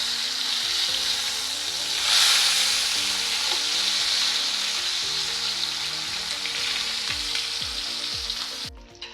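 Karimeen (pearl spot fish) pollichathu frying in a pan after being flipped, with a steady, close sizzle and crackle holding for the whole stretch, swelling briefly louder early on before fading slightly at the end.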